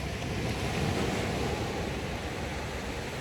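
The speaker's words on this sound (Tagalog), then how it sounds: "Mahina lang ang alon, no?" Continuous soft rush of surf with wind noise, broad and steady with no distinct breaking crashes.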